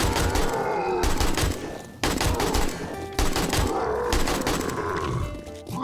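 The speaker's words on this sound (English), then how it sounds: "let's see how much this guy can eat bullets without exploding" Rapid gunfire pours into a Demolisher zombie in 7 Days to Die (Alpha 18): loud, dense bursts of shots run almost without pause, with brief breaks and guttural grunts mixed in.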